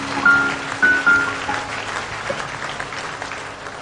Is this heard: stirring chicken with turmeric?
no